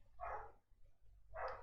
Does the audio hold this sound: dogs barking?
yes